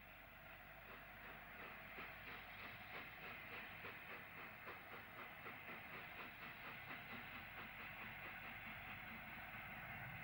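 Steam locomotive 60009 Union of South Africa with its support coach on a positioning run to Ealing Broadway, heard as a loud, continuous rumble with steady rhythmic beats throughout and no talking.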